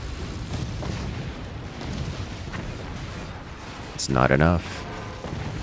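Howitzer shells and a laser beam strike a thick base in the Forts real-time strategy game, a heavy burst of impact noise near the end rising over steady battle rumble, with a voice speaking briefly.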